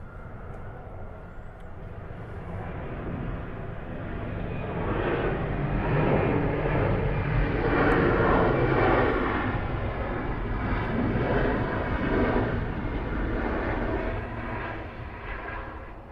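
A jet airliner taxiing at Atlanta's airport, a steady broad engine roar that swells in the middle and stays loud and continuous throughout, heard outdoors at a distance with no voices.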